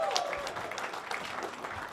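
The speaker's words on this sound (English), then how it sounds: "I saw a cheer back there." An audience at a gubernatorial candidate forum applauds and cheers in a steady patter of clapping that fills the whole moment, with a few voices rising above it.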